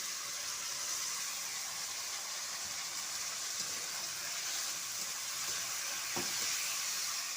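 Green peas sizzling steadily in hot oil with dry red chillies and chopped tomato in a wok for a flat bean curry, a continuous hiss with a faint clink of utensils near the end.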